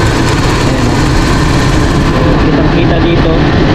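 A Toyota Revo with a 7K engine runs steadily after a restart, a loud, close, continuous mechanical drone with no pauses throughout.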